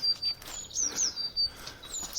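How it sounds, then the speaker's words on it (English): A bird chirps and tweets repeatedly in short bright bursts outdoors on a countryside walk near Morton, moderately close with quiet gaps between calls. "that bird's dead chatty"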